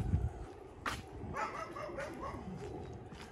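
A dog barks a few times at a distance in a residential neighbourhood beside a park in Regina. The barks are faint and short over steady outdoor background noise.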